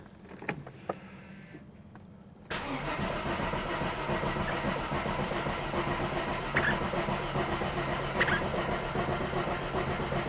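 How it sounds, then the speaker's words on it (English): A car engine is cranked during a starter test with a battery tester. After a few faint clicks and a quiet pause, the engine catches and settles into a steady, even running hum that holds to the end. "Let's see if the car's going to start for us."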